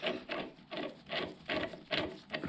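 Tool scraping as a puller is screwed onto the ignition part of a 1997 Aprilia RS 125 GS during a rebuild, a close rasping rub repeating in six even strokes, roughly one every 0.4 seconds, with no talk.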